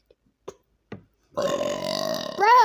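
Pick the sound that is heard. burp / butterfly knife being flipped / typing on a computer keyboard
burp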